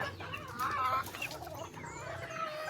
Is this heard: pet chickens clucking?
yes